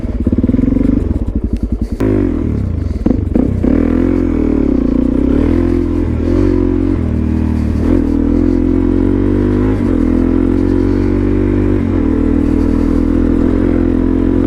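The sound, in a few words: Suzuki DRZ supermoto motorcycle riding in mud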